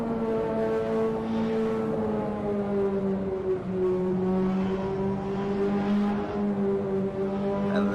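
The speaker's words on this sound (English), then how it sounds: "So let's listen to the car here through the corkscrew section here." A Ferrari 488 Pista engine in Assetto Corsa drones steadily in mid third gear through a corkscrew section of a roller coaster race circuit, the pitch sagging slightly and then holding, loud and continuous.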